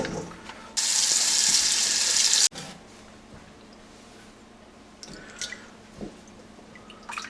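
Blackberries being rinsed under running water at a kitchen sink, a steady loud gush of tap water for about two seconds, followed by quieter drips and wet squishing as the berries are handled.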